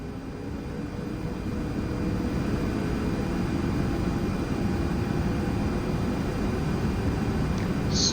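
ToLiss A330neo jet engines spooling up on the takeoff roll in X-Plane 12, a steady, broad roar that builds slightly and then holds loud and constant, with no talking.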